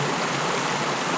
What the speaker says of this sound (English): Got the creek running here